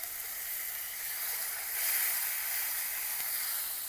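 Water poured onto spices frying in oil gives a steady, close hiss of sizzle that swells a little midway and then holds evenly, with no voices.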